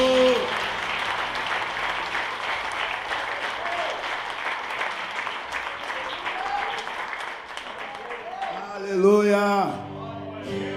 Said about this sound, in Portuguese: deem um forte aplauso ao Senhor